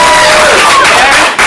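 Comedy-show audience applauding to vote for the red team, a loud, dense burst of clapping with some cheering that cuts off abruptly near the end.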